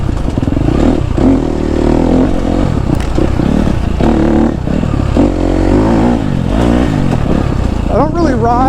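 A KTM 250 SXF four-stroke dirt bike rides through a summer forest trail, its engine revving and blatting continuously up close with rapid throttle changes, clattering and scraping mixed in throughout.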